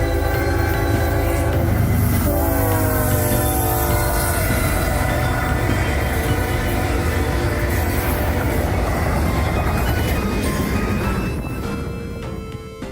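A freight train led by GE Evolution GEVO locomotives passes close by, loud rumbling and clattering under a long, sustained multi-tone horn blast that fades as the train continues rolling past.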